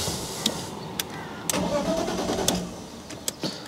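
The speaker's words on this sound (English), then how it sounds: "Also, it doesn't start instantly, which is weird for a gasoline-powered car." A gasoline BMW E46 coupe engine cranks and catches after a brief delay, then settles into a steady idle, with a few sharp clicks scattered throughout.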